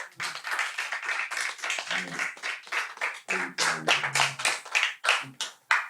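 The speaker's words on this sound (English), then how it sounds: "We want to thank those that are with us today in our studio audience. Give yourselves a round of applause." A studio audience claps for itself, uneven rapid hand claps of a modest crowd, close and fairly loud, with rhythmic pulses rising and falling over several seconds.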